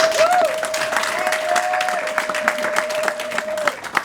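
Applause from a congregation acclaiming Jesus during a wedding blessing, a steady patter of many hands clapping for about four seconds, with a sustained musical tone running beneath.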